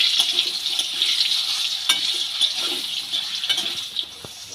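Potato pieces fry in hot oil, a loud, steady close sizzle with occasional crackles and faint stirring, no voices.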